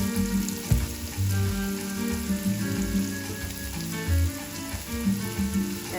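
Vegetables sauteing for a Haitian legume stew give a steady close sizzle and crackle in a pan, with a few low thuds and stirring knocks and no talking.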